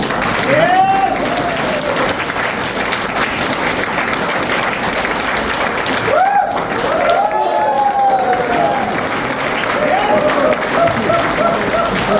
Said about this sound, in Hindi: जोरदार तालियां अपनी